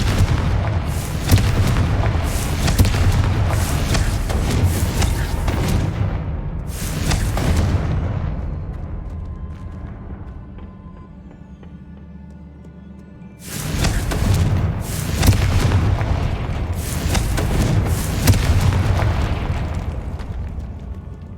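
A Confringo explosive spell blasts in Hogwarts Legacy, a string of loud booming explosions with rumbling tails, then a quieter lull of low ambience before another burst of heavy booms.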